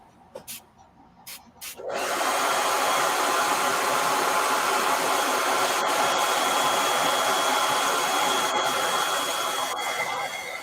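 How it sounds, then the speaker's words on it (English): A handheld blow dryer drying fresh paint switches on after a few faint clicks and then blows in a loud, steady, close whoosh that continues without a break. "I'm going to hit this with a blow dryer so I don't"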